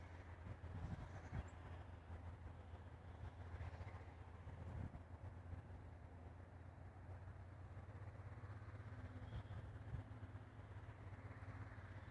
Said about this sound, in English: The train is just coming up